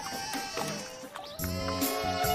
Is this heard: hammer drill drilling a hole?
no